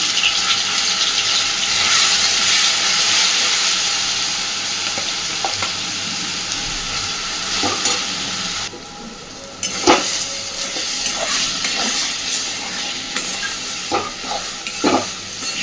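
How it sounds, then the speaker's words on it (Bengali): Raw banana peel paste ground with garlic and green chilli sizzles steadily in a hot pan, a dense frying hiss broken by a few sharp clinks and scrapes of a spatula toward the end, with no talk. "এবার দিয়ে দিচ্ছি কাঁচকলার খোসা বাটাটা"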